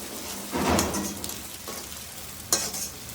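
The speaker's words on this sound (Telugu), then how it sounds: "అల్లం వెల్లుల్లి పేస్ట్ వేగిపోయింది" Ginger garlic paste fries in a pan with a steady, close sizzle, broken by a couple of stirring scrapes; no voices are heard.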